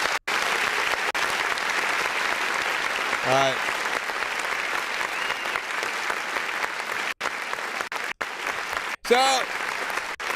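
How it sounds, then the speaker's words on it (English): Canned applause from a clap button sound effect plays steadily for several seconds, a bright, even crowd-clap texture, while someone briefly talks over it. "Is my clap button actually gonna work this?"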